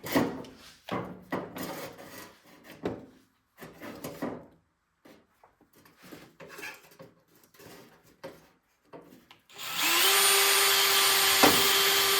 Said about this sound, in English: So first thing I do is drill the holes where the rivet's going to go.